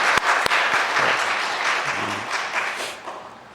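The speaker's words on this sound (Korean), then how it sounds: "한번 힘차게 박수 한번 치겠습니다." A church congregation at a Sunday service claps vigorously after a choir hymn, with a few sharp claps at the start swelling into sustained, full applause that gradually eases off.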